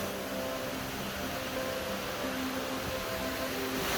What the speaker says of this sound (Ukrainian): Я просто стою посередині водоспаду.